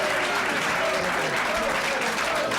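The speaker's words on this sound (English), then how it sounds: "Give her a nice round of applause." Steady, dense applause comes from a studio audience on a 1984 television show, filling the whole clip evenly with no pause.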